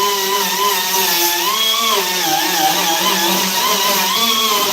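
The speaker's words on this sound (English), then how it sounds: "So that's 36 grit that we're using to take all that filler material out." A power sander fitted with coarse 36-grit paper grinds body filler off a surface, a steady loud whine with wavering pitch that runs unbroken throughout and drowns out everything else.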